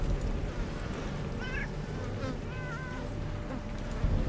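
Cats in the video game Underrail, faint meows rising over a low buzzing, insect-like ambient hum, with a couple of short calls spaced apart and no voices.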